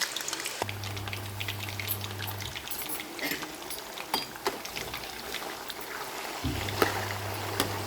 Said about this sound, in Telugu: ఇలా ఆయిల్ హీట్ అయ్యాక మనం చాప్ చేసుకున్న పొటాటోస్ ఇందులో వేసి షాలో ఫ్రై చేయాలి